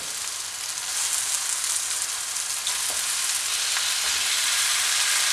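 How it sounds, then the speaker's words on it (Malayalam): Chicken pieces dropped into a Kerala-style tomato masala for chicken roast set up a loud, steady frying sizzle that swells after the first second and continues unbroken, close up, with no talking. "ഇനി നമുക്ക് ചിക്കൻ ചേർത്ത് കൊടുക്കാം."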